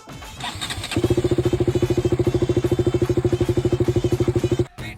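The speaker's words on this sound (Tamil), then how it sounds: "இப்போ வாங்க இந்த வண்டியோட சவுண்டை கேட்க போகலாங்க." An orange and black KTM Duke 200 motorcycle idling up close, a loud rapid even thumping single-cylinder beat after a brief rev, continuing steadily before stopping abruptly.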